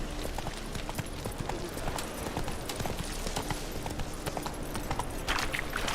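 Roach the horse trotting in The Witcher 3, steady rhythmic clip-clopping hooves close by, continuous over ambient game sound, without talking.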